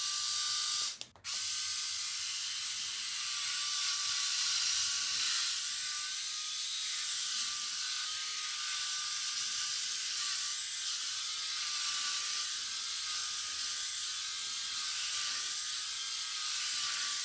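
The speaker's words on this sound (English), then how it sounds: "Just letting that footage play there so that you can get an idea of real shaving performance." A GERTZY electric head shaver runs continuously close by while shaving a head, a steady high whirring motor hum with a brief interruption near the start and no talking.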